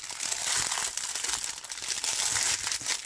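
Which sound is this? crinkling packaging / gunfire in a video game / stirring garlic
crinkling packaging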